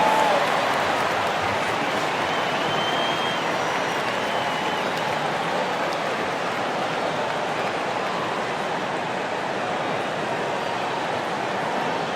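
Broad, steady roar of crowd applause and cheering filling an arena in the basketball video game NBA 2K25, continuous and fairly distant, with no clear voices standing out.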